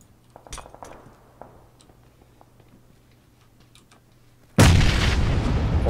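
A grenade thrown in the PUBG video game explodes inside a house. Faint scattered ticks and clicks come first, then a sudden loud blast bursts in and rumbles on to the end.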